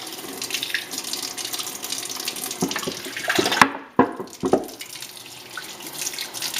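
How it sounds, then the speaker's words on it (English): Ozonated water runs from a tap into a kitchen sink, a steady hiss and splash with a few sharper drops and gurgles as the flow shifts, close and moderately quiet, with no talking. "You fill the sink up with ozonated water."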